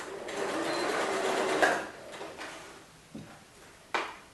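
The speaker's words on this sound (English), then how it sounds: "I'm going to stitch 1 centimetre across that end too" A domestic sewing machine runs a short line of stitching across the end of a fabric purse, a steady mechanical whir for about a second and a half, then stops, followed by a few small clicks and knocks.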